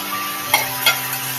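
Boiled, salted peanuts stirred in a hot pan, a soft steady frying hiss with two brief scraping stirs, no talking.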